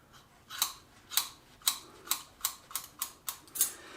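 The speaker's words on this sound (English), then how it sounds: "I'm going to cut the hair directly on her back" Scissors snip through a woman's hair while cutting a straight line across her back during a layered haircut, about nine crisp close snips in a fairly steady rhythm with no talk.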